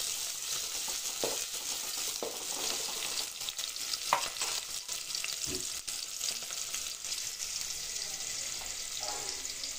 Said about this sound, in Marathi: कांदा चांगला परतून घ्यायचा लाल वगैरे